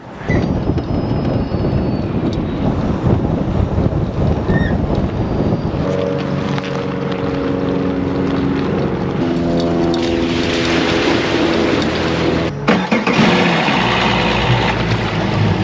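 Wind buffets the microphone over rushing water, then a boat motor's hum rises and holds steady, close and loud for the rest.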